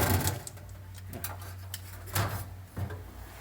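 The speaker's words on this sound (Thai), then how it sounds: "เดี๋ยวพัดลมดังนะครับ" Whirlpool two-door refrigerator fan running during a repair of weak cooling, a steady low hum with a few clunks and knocks of handling over it.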